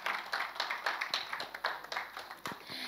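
Applause from an audience at a Bollywood song launch event: a scattered, fairly light patter of clapping that carries on steadily for a few seconds at a modest level, with no voices over it.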